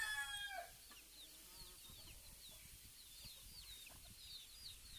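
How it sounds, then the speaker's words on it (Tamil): Chickens cluck and call softly on a farm while pecking at fish, with a rooster crowing briefly at the start amid steady low background noise; repeated short chirpy clucks continue throughout. "மீனை வந்து கோழி கொத்துது பாருங்க"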